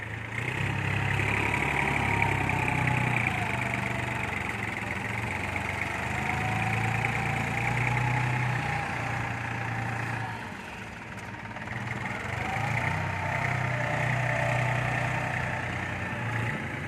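A New Holland TT3.50 tractor engine idles steadily for the whole stretch, a loud, close, even diesel hum with a slight dip in level partway through and no talking.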